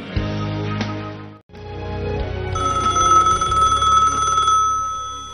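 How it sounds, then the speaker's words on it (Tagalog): A telephone rings loudly and steadily, a continuous electronic bell tone that pauses briefly and resumes, with no voices over it. "Agriring ti telepono iti abay kong agbasbasa iti mga kasi."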